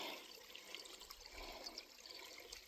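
A small desert waterfall trickles into a little pool, a steady soft wash of running water at close range, fairly quiet and unbroken, with no voices.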